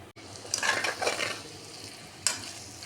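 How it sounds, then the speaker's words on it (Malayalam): Flakes of rice ada are stirred and sautéed in ghee in a pan for Kerala-style payasam, soft scraping and clinking of a spoon against the pan over a faint sizzle, quiet and close. "ഇനി ഇതിലേക്ക് നമുക്ക് അടയിട്ടൊന്ന് വറുത്തെടുക്കാം"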